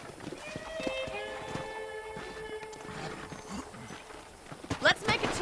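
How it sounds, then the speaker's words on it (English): Horse hooves clip-clop at a ride's start in the Red Dead Redemption video game, with brief whinnies and ranch ambience under a speaking voice. "let's see if you can still ride a horse."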